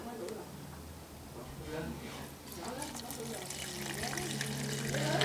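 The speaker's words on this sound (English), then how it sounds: "And we'll just pour some petrol in." Petrol pours and trickles into a container, a steady splashing flow building slightly in loudness, with a voice speaking over it.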